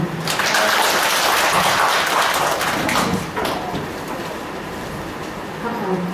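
Applause from attendees at a Thai public finance training session, a dense sustained clapping wash that is loudest early and eases to a softer, steady level.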